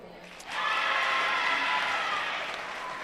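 The Redbank crowd cheering at a high school volleyball playoff against Keystone, a sudden rise into a sustained roar of voices and clapping that holds at full strength, then eases slightly toward the end.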